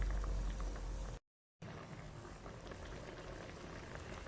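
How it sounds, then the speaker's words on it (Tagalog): Beef estofado with brown sugar and salt bubbling in a cooking pot, a steady low simmering hiss and soft bubbling throughout, briefly cut off for a moment, with no talk. "Pakuluan lang natin."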